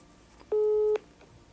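A telephone ringback tone sounds while a call is being placed, one steady, clear electronic beep about half a second long, heard alone in a quiet room.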